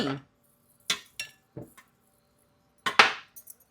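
Ajwain seeds go into a mixer jar. A handful of sharp, separate clinks and taps on the jar are spaced over a few seconds, close and crisp against near silence.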